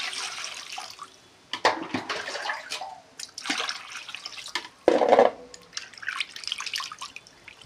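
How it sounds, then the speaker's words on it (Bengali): Water poured over cut rohu fish pieces to wash them, splashing and dripping in uneven bursts with a louder gush near the middle, close and alone. "এখন ধুয়ে নিচ্ছি। এই যে ঢেলে দিচ্ছি"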